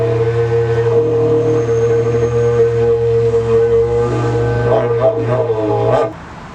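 A Celtic horn is played with the lips while the player hums through it, giving a droning, brassy tone with a steady low pitch and a wavering upper voice, loud and close, fading out abruptly at the end.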